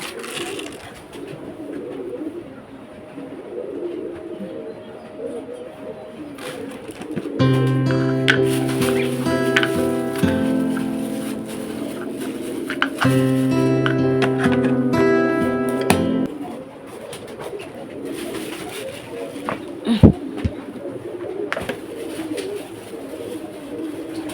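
Pigeons coo repeatedly over a steady background murmur as they are fed in their coop in the morning, with a dense burst of layered cooing and chatter in the middle that fades back to quieter calls.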